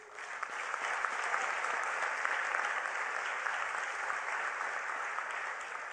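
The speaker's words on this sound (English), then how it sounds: "Let's give a big hand of applause to Mohammed." Audience applause at a United Nations Hult Prize 2019 event, a broad, even patter of many hands clapping steadily for the full length, slightly distant in a large hall.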